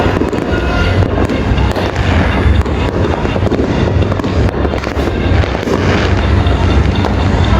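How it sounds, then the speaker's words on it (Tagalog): Dense Chinese New Year fireworks crackle and pop continuously, rapid bursts overlapping into a loud, sustained barrage with low booms underneath. "Mga 7 color ng Chinese fireworks"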